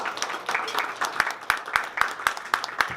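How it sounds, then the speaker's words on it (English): An audience at a breakfast event claps in steady rhythmic applause, close and fairly loud, continuing throughout without talk. "let's give her a warm round of applause"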